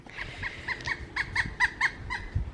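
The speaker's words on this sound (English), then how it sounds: "you guys hear that bird? Oh, it's a woodpecker" A woodpecker repeats a series of short, evenly spaced squeaky calls at moderate distance, about a dozen notes in a steady rhythm.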